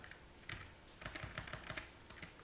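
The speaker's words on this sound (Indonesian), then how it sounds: "kita ketikkan" Keys clack in a rapid, irregular run as a terminal command is typed on a computer keyboard, close and fairly clear over a faint background hum, with no voices.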